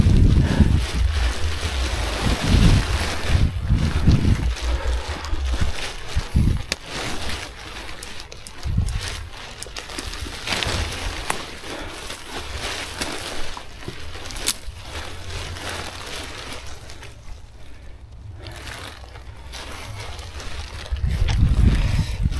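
Wind gusting past the microphone on a cold, foggy night climb through tall grass on Mount Kawi, a steady low rumble with louder buffeting bursts near the start and end, and no voices.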